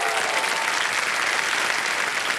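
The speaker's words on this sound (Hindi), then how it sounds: "तालियां बज जाए इनके लिए।" A studio audience on a televised quiz show applauds in a loud, dense, steady burst of clapping that fills the whole stretch without a break.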